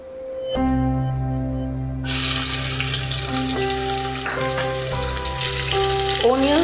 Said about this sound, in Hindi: ओनियंस जब तक ये गोल्डन ब्राउन ना हो जाए हम इसको इसमें फ्राई करते रहेंगे, स्टिर करते रहेंगे